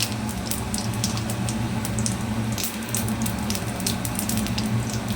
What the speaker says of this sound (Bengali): তেলটা আমার গরম হয়ে গেছে, এখন আমি একটু গোটা জিরা ফোড়নে দিয়ে দিব।